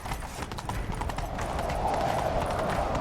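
Hooves clip-clop in a quick steady rhythm as a horse trots along in The Witcher 3, with a rushing background noise building underneath.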